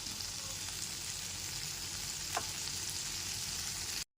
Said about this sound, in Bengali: এরপর এর মধ্যে ভেজে রাখা আলুগুলোকে দিয়ে দিচ্ছি